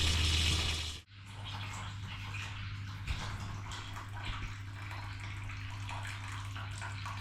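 Water drains from an opened radiator valve into a bucket. A sharp cut early on gives way to a steady trickling, gurgling flow that continues close by, with no talking.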